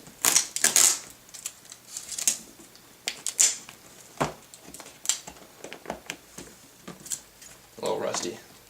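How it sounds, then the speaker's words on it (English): Scissors snip and crunch through the cardboard and plastic packaging of a BenQ Joybee GP2 projector box, giving irregular close clicks and rustles, with a person speaking intermittently over them. "Get started with scissors."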